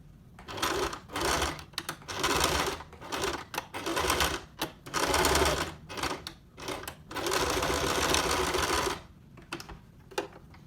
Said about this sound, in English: I'm going to fold it over on top, and then I'm just going to sew along this edge here